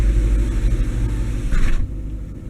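A Chevrolet C8 Corvette with its stock NPP exhaust idles in an open garage, a steady low rumble that drops sharply in level near the end, with no talking.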